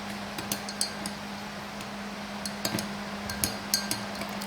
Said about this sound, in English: then you're going to be stirring it all up